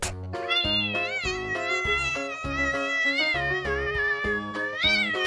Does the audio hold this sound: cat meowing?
yes